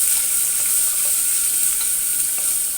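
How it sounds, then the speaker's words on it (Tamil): Thinly sliced large onions sautéing in a pan for kuska biryani, a steady bright hiss of frying, close and even, with only faint hints of stirring and no voices. "பெரிய சைஸ் வெங்காயம் மெலிசாக கட் பண்ணி வச்சுருக்கிறேன், அதையும் போட்டுக்கலாம். இதை நல்லா வதக்கிக்கலாம்."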